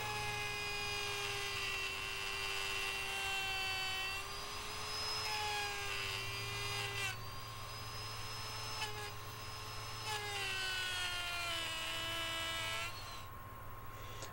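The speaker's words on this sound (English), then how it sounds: "And so now that I've routed all that I can with the template on, I'll remove it." Electric router with a sharp bit cutting a guitar body along a template, a steady loud whine with tonal harmonics that shift slightly in pitch as the cut proceeds, running continuously throughout.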